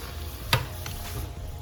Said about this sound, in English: you hear it sizzling?